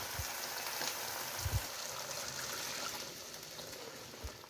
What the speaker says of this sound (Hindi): अब इसमें 1 गिलास पानी शामिल करके ताकि अच्छी तरह से हिला के वो भी डाल देंगे।